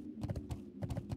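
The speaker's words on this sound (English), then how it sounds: "Gallop." A horse gallops in World of Warcraft: Wrath of the Lich King Classic, its hooves beating in two quick rhythmic bursts of clip-clop with no talking.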